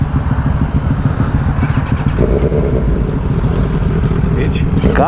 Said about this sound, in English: Kick your bike into gear